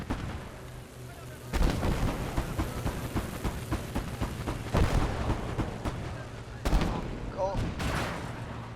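Artillery blasts and gunfire in a battlefield video game, with a heavy boom about every second or two amid steady rumbling combat noise, while a player shouts briefly over the din.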